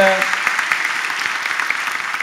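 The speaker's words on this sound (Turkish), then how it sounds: "Gülhan Tekin'e alkış." A studio audience claps after a comedy sketch on a television show, a steady, fairly close round of applause; a brief tonal sound opens it.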